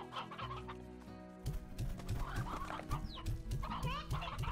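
Hens cluck repeatedly in the farming video game Slime Rancher, a busy run of close, rhythmic clucks layered over a steady low game hum and background music.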